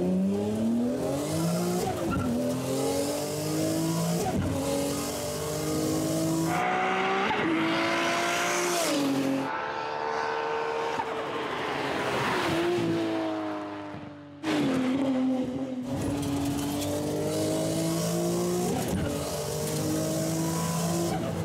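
A high-power car is driven hard on a street circuit in a time-attack lap, its engine note sweeping up and down through repeated gear changes and its tires squealing through corners. The sound is loud and continuous, with no talk.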